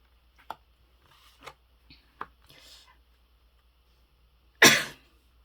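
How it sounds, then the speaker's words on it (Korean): A single loud, sharp cough bursts out near the end, following a quiet stretch of faint rustles and soft vocal sounds, close to the microphone during a tarot card reading. "죄송합니다. 기침이 좀 나와서."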